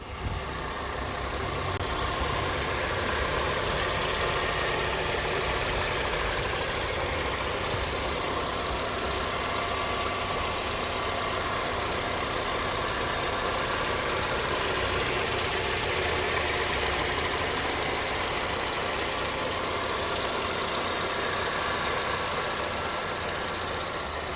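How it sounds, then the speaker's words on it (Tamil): A 2007 Honda CR-V petrol engine idles steadily, recorded up close, a smooth continuous hum with faint mechanical ticking and no voices. "இன்ஜின் சவுண்ட் எப்படி இருக்குன்றத ஃபோனை டைரெக்டாகவே நம்ம இன்ஜின் பக்கத்தில் வச்சு"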